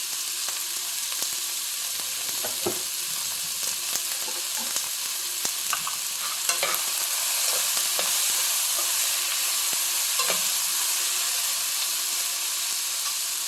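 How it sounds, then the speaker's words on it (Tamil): Onions sizzle steadily in a hot pan with salt while making pepper chicken fry, a constant frying hiss broken by occasional clicks and scrapes of stirring. "வெங்காயம் நல்லா வதங்கட்டும் வெங்காயம் வதங்கிறதுக்கு உப்பு போட்டுக்கலாம்"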